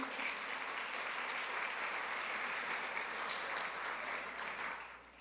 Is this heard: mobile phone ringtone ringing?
no